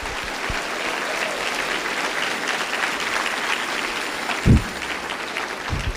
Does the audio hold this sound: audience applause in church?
yes